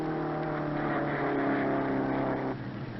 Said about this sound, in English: Here's Mel and the jalopy